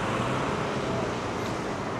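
Steady road traffic at an intersection heard while cycling in Jurong Lake Gardens, a constant broad wash of passing cars and engines at moderate distance, with no distinct horns or voices.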